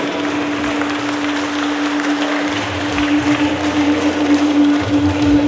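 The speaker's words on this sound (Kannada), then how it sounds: "਒ಂದು ಚಪ್ಪಾಳೆ ಬಂದರೆ ಭಾರಿ ಖುಷಿ ಆಗ್ತದೆ" An audience applauds steadily at an Arebhashe language day celebration in Sullia, a dense continuous clapping over a low electrical hum.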